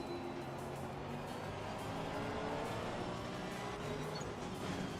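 Race car engine noise from the Assetto Corsa Competizione racing game, a steady dense roar with a car alongside on the right, continuous and fairly loud throughout.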